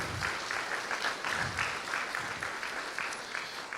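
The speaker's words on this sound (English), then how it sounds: "Just give them all another round of applause." Applause from a congregation at a Sukkot scripture reading service, a steady wash of clapping spread across the room at moderate loudness and sustained for the full stretch, with no speech over it.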